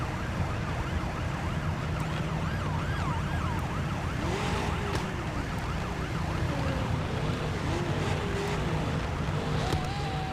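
A vehicle siren in the Car Parking Multiplayer game wails continuously, its rising and falling tone clearly audible over steady engine and road noise throughout.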